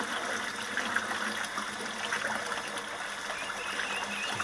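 Rinse water from a washing machine is pumped into a DIY grey-water tank, giving a steady, moderately faint rush and trickle of flowing water with no break.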